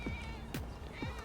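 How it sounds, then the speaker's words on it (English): A cat in the video game GTA 5 meows three times in quick succession, each call a short falling cry, close and clear over steady game ambience. "Look at that, it's a kitty."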